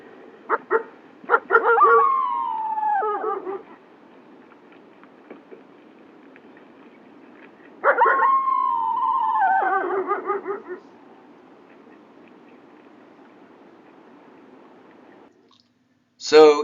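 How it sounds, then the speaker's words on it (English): Two long wavering howls from the Lamar Canyon Pack's beta female wolf, each rising then sliding down with a modulated, wavy tail, separated by quiet, with a brief sharp sound at the very end. "So here's the modulated portion of that howl"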